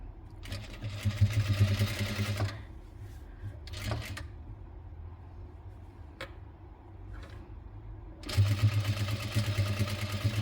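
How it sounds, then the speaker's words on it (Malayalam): A sewing machine stitches lace onto a nightie neckline in rapid mechanical bursts, running loud for a couple of seconds, pausing with short clicks, then starting again near the end. "ഇനി നമുക്കിത് സ്റ്റിച്ച് ചെയ്തെടുക്കാം."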